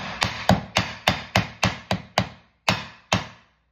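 A heavy meat cleaver thuds repeatedly onto salami on a board, about a dozen sharp, evenly spaced chops that slow slightly before stopping.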